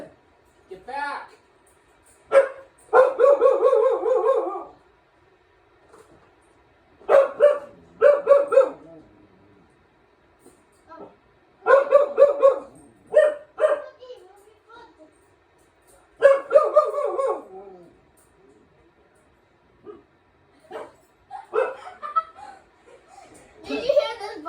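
Puppies named Molly and Daisy yip and bark in short bursts while being dried after a bath, with people talking close by between the barks.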